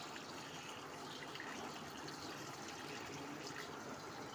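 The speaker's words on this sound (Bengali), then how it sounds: "চিকেনটাকে আমি একটু ধুয়ে নেব, রেখে দিয়ে একটু জল দিয়ে তারপরে ধুয়ে নেব চিকেনটা।" Water runs steadily over raw chicken being washed, a continuous soft hiss of a stream with faint splashing, quiet and unbroken.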